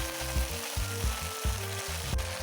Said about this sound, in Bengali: পেঁয়াজটা ভালোভাবে ভাজা হয়ে গেলে এর মধ্যে আমি আদা রসুনের পেস্ট অ্যাড